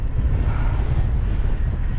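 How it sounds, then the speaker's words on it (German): A strong gust of wind roars against the microphone on a stormy weekend bicycle caravan tour, a steady, dense low rumble that fills the whole moment without letting up. "bis die nächste Böe wieder kommt"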